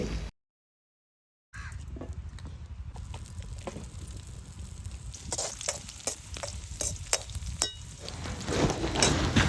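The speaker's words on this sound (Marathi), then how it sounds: "कढईमध्ये तेलात जिरं लसूण चांगलं परतलंय आणि भरलेली वांगी घालून घेतली" Stuffed brinjals frying with cumin and garlic in oil in a wok over a wood-fired stove, a steady close sizzle with scraping stirs and crackles building toward the end after a short silent gap.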